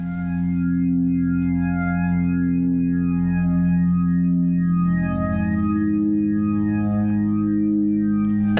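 Several low, droning synth notes sampled from a Porsche engine sound together as a chord, buzzy and thick, with slow phasing sweeps and a steady, effect-laden sustain.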